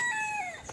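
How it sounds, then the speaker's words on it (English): A single short, clear call from a chicken on a hillside in the Azores, a brief rising-and-falling tone with no talk. "You can hear the chickens around here."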